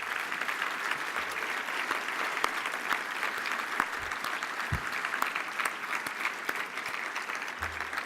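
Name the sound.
audience round of applause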